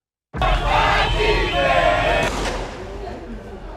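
A crowd of protesters shouts and screams in a dense, loud roar that bursts in suddenly during a clash with police and anti-riot forces in Cameroon, with chaotic overlapping voices that thin slightly toward the end.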